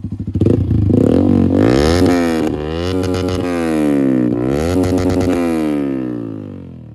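A Yamaha R15 V4 BS6 motorcycle fitted with an SC Project aftermarket exhaust revs hard several times, its rising and falling engine note loud and close with no talk over it.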